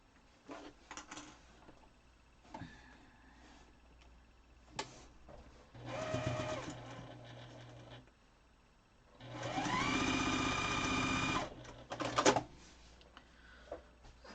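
A home sewing machine re-stitches pieces of an outdoor star quilt, running in two steady whirring bursts of about two seconds each, with quieter handling and bumps between them.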